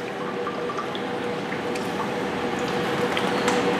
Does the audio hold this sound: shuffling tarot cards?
no